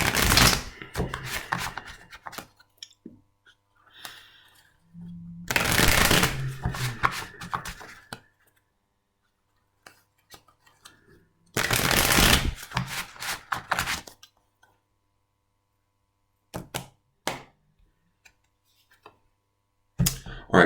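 A tarot deck is shuffled in several quick riffling bursts of card flicks, close and crisp, with quiet pauses between them.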